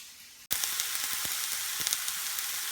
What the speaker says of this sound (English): sauteing everything up just in a little bit of ghee, salt and pepper